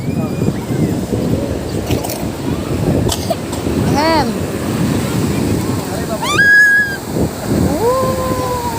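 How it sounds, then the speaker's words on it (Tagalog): Strong ocean surf rolls and crashes steadily at a beach resort, a broad continuous wash mixed with wind buffeting the microphone, while people talk and call out nearby over the waves. "Pakalakas ng alon, guys."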